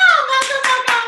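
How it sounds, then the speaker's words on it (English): A few hand claps for Malcolm arriving at an on-camera workshop, about four sharp claps spaced evenly and close by, over a sustained tonal background. "Give a round of applause for Malcolm!"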